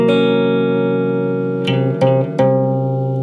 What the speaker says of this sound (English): Really cool chord sound.